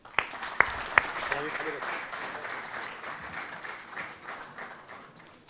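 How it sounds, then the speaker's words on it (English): A huge round of applause fills an event hall as a founder director is welcomed onstage at a student entrepreneurship event, opening with a few sharp, close claps before settling into steady, moderately loud clapping from the audience that slowly fades. "Now may I welcome Mr. Jaideep Raje with a huge round of applause"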